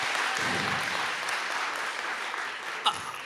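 Audience applause at an evening children's literature book awards ceremony in Canada, a steady broadband wash of clapping from a full room that holds evenly throughout, with a brief louder accent near the end.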